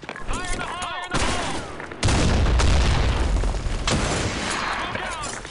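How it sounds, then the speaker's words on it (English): In the Blackshot shooter game, a grenade blast booms amid bursts of rapid gunfire, with a loud surge of explosion noise midway and shouted voices heard before it. "Look out! Grenade!"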